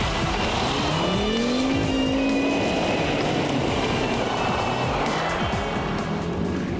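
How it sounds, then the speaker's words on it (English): A Volvo S60R performance car driven hard, engine revving loudly and tires squealing through fast corners, with continuous engine roar throughout and no talking. "This X60R is a real performance car"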